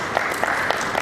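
Brief burst of audience clapping for panelists at a Nigerian climate finance and investment summit, a dense even patter with a few sharper claps standing out.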